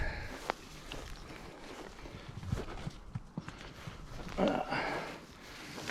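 Cows walking near a woodland campsite, their hooves thudding and clopping irregularly on the ground, with a few sharper scuffs and low rustling in the background.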